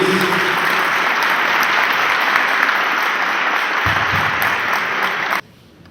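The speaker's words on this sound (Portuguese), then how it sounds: "Vamos dar uma salva de palmas para eles." Loud, dense applause from a large audience at a Fazenda da Esperança gathering, a continuous roar of clapping hands that cuts off abruptly near the end.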